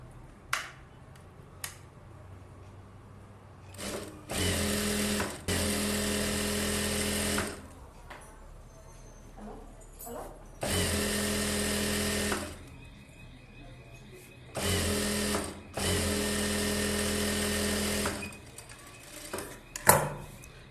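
A tailor's sewing machine stitches a blouse in about five loud, whirring bursts of a few seconds each, separated by quiet pauses with small clicks and handling noises.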